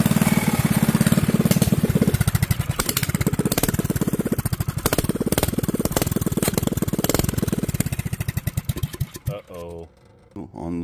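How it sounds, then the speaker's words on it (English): An old Tecumseh small engine runs with a loud, rapid chugging putter close by, then cuts out near the end, leaving sputters and quieter room sound. "It's an old Tecumseh engine."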